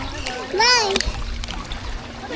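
A child jumps into water with a close, bright splash, while other children and adults call out and talk around it in an outdoor swimming spot.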